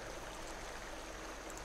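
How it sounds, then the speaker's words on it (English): Cold coffee poured onto the ground in a point-and-click adventure game gives a faint, steady watery trickle that lasts the whole stretch. "Pour it on the ground."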